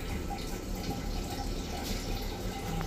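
Hot water poured into a cooking pot, a steady low rush of flowing water with faint splashes throughout, fairly close and moderately quiet, no talking.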